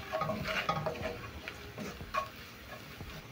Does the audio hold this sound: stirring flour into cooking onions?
yes